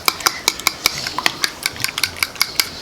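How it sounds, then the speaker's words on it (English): A fork or whisk beats eggs in a bowl for fresh pasta, making quick, rhythmic clinking taps against the bowl at a steady pace, close and clear with no talking. "You want to beat the eggs?"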